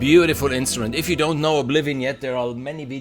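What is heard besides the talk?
No everyday noise stands out behind the speech.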